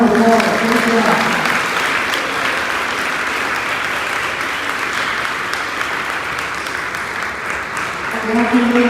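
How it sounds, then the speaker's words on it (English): At a virtual eighth-grade awards ceremony, an audience applauds with sustained, fairly loud clapping, and speech is heard at the start and end. "Let's give these girls a round of applause"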